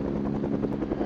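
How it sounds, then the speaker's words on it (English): Steady, continuous rotor drone with a low rhythmic chop, sustained and fairly loud throughout, like a helicopter overhead or nearby. "helicopter"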